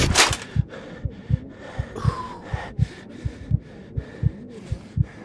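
In the video game A Blind Legend, a heartbeat thumps in a steady, fairly fast double-beat rhythm, close and prominent, with breathy gasps and faint game sounds behind it and no speech.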